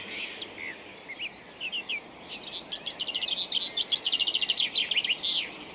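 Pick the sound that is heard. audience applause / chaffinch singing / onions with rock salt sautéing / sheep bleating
chaffinch singing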